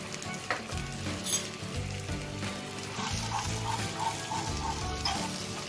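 A vegetable mixture sautés in about a tablespoon of oil in a frying pan for momos, giving a soft, steady sizzle with faint stirring scrapes, close and fairly quiet throughout.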